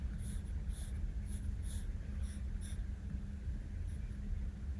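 A pencil scratches across paper, roughing in a sketch of a sci-fi robot with soft continuous strokes and short bursts of scraping. It stays close but faint over a steady low background hum.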